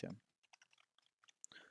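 A short burst of keyboard typing, a few quiet scattered key clicks with a soft voice murmur at the start and end.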